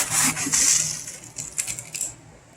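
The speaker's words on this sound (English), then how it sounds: "If I take a round chopstick, I'm pushing this way, this way, it's pushing every way." A chopstick scrapes and pushes gritty soil into a bonsai pot during repotting, heard as a close, rough hiss of granules at first, then several short scratchy rubs.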